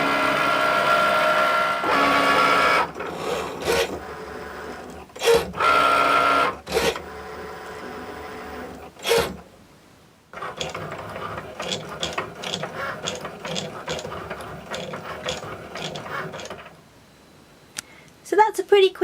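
An electronic craft cutting machine cutting a card design, its gears and carriage ratcheting in bursts of whirring and clicking, with quieter stretches of rapid mechanical chatter and brief pauses between moves.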